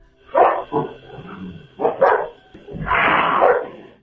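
Two dogs bark beside a trailer in a yard, a few sharp close barks followed by a longer loud bark and yelp, with no talk.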